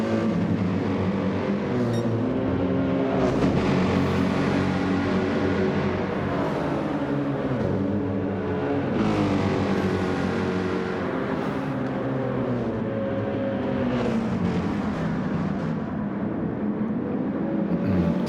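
A Peugeot RCZ race car's engine drones steadily in a racing video game league finale, a continuous loud motor hum with shifting pitch and no talk over it.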